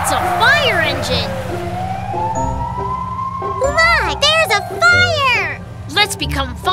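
A cartoon fire engine siren wails in repeated rising and falling sweeps, loud and close, with a high warbling tone, while cartoon children's voices chatter over and between the siren cycles.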